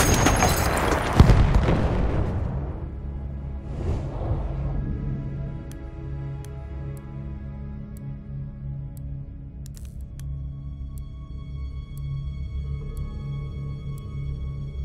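In Battlefield 1 gameplay, an artillery shell explodes with a loud, close blast that rolls off into a long, low rumble, followed by a sustained droning battlefield background and a few faint distant impacts.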